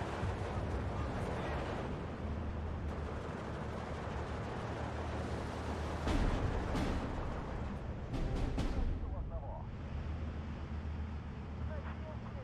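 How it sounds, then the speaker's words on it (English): Artillery fire in the World War II strategy game Steel Division 2 booms and rumbles as a low continuous barrage, with a few louder blasts standing out, while someone talks over it. "Artillery takes another squad."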